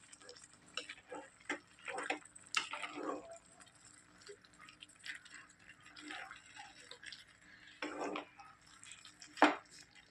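Jackfruit aviyal being stirred with ground coconut paste in a pot, quiet irregular scrapes and clinks of a spoon against the vessel, sparse and close.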